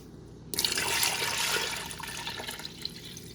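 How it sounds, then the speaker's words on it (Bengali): Water pours into a pot of chicken stock soup with a sudden, steady splashing gush that runs on for a few seconds, close and moderately loud. "সাথে কিছু পানি অ্যাড করব"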